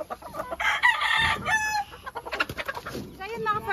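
Rhode Island White chickens on a farm cluck and crow close by, a loud rooster crow mixed with repeated clucks and squawks over about four seconds.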